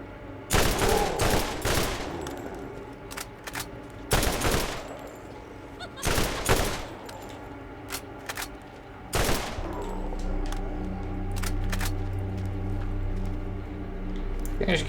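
Gunfire from the video game Zombie Island of Dr. Ned as zombies are shot, several sharp bursts of shots spaced a few seconds apart with quieter shots between and a low rumble toward the end.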